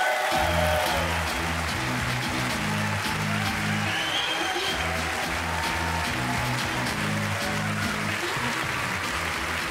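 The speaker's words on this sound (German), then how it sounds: "Vielen Dank für den netten Applaus." A large audience at the Swiss Comedy Awards 2024 applauds comedian Kaya Yanar, a dense and steady wash of clapping that carries on without a break for about ten seconds at moderate volume.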